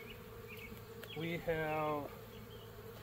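Honey bees buzzing steadily in a bee yard under a big oak, a continuous close hum throughout while a person speaks briefly over it.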